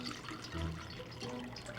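Colored water poured from a container into a ring mold for a frozen punch ring, a faint, soft splashing and trickle that runs briefly, close by, with no talk.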